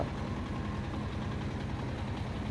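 A hired trawler boat's engine runs steadily on the water, a continuous low, rumbling drone that holds an even level throughout with no talking.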